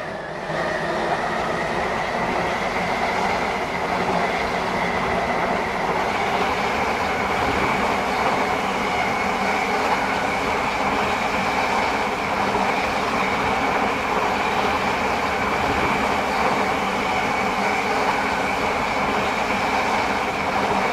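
Steady, loud rumble of a train running on the Waterline service in the Roblox video game, a continuous rail drone with a sustained tonal hum and no voices over the full length.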